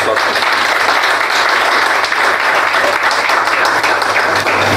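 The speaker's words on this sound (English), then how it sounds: "A round of applause." An audience at an options trading education meeting gives a round of applause, with loud, continuous clapping that holds steady for about five seconds without any voices over it.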